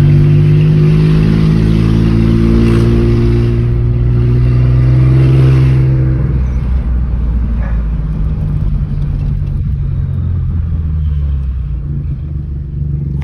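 A modified Stage 3 VW up! with a loud exhaust drones steadily up close, its deep engine note shifting slightly in pitch before easing off toward the end.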